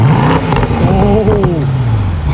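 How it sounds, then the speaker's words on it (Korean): A loud BMW M550i exhaust at full throttle, close by, with a low engine drone and rising, falling harmonic whine, broken by a few sharp crackling pops near the end. "M550의 예, 팝콘 소리입니다"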